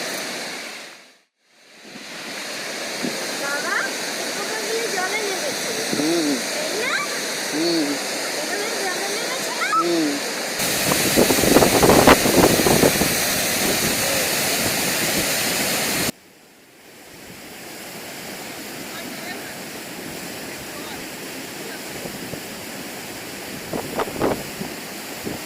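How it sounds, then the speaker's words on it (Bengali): Dainthlen Falls near Cherrapunji in Meghalaya pours as a steady broadband rush of water, loudest in the middle. Brief voices and wind buffeting on the microphone break in now and then. "পরের গন্তব্য ডেনথলেন ওয়াটারফলস।"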